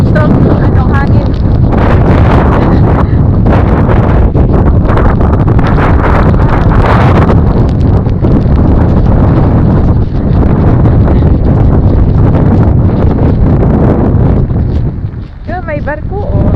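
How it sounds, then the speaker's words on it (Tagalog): Strong wind at Suomenlinna, Finland, roaring across the microphone as loud continuous buffeting through the whole stretch, with a voice talking underneath. "Talagang strong ano hangin."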